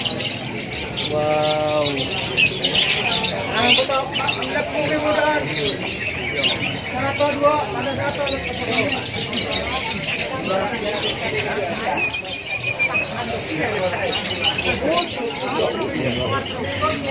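Lovebirds and other caged birds at a bird market in Sumenep, Madura chirp and tweet continuously, a busy overlapping chatter with a few cooing notes, while people talk throughout.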